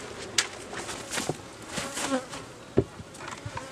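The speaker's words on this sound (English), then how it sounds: "There's bees here, and they're gonna start flying back" Honey bees buzz around a nucleus hive set up for a split, with scattered faint hums and a few brief louder passes close by, irregular and light against a quiet outdoor background.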